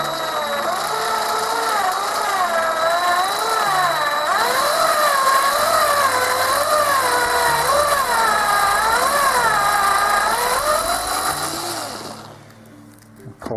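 A drill whines loudly and steadily for about twelve seconds, its pitch wavering as it bites into plastic, then cuts off abruptly.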